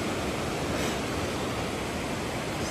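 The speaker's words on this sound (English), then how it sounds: "biggest waterfall here in the canyon." The largest waterfall in a river canyon near Peja, Kosovo, pours with a dense, unbroken rushing roar heard up close, steady and loud from start to finish.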